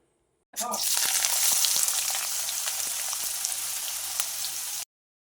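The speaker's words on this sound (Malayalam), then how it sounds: "ചൂടായ എണ്ണയിലേക്ക് ആദ്യം ഇഞ്ചി ഇട്ട് കൊടുത്ത് വറുത്തെടുക്കാം." Steady, loud sizzling of ginger frying in hot oil, with occasional crackles and pops, no voices.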